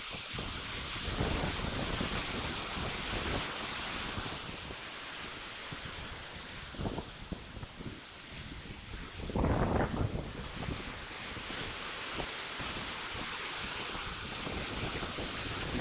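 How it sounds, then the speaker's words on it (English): Hurricane Beryl winds howl in a steady roar across the microphone while surf washes far up the beach, loud and continuous with a couple of stronger gusts. "You can hear the wind now. The wind is just howling like crazy"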